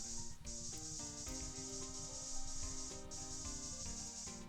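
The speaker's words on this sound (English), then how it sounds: "Let us spray." Spray sound from the Ace Attorney game, a steady bright hiss that runs for a few seconds with a short break, layered over tonal game music.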